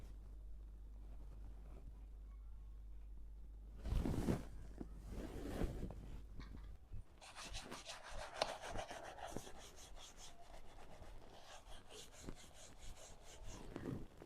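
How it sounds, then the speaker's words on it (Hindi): Shoes are polished by hand with quick scratchy rubbing and brushing strokes, close and fairly quiet, following a brief louder rustle. "मैं जी हस्बैंड के जूते पॉलिश कर रही हूँ"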